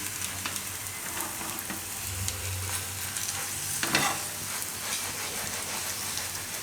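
Maggi pudla fries in a pan over a medium gas flame with a steady, crackling sizzle, briefly louder as it is stirred or scraped near the middle, and no one speaks.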